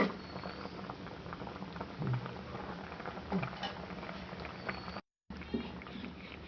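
Fish curry bubbles in an uncovered pot, a dense close patter of boiling with a brief drop to silence near the end.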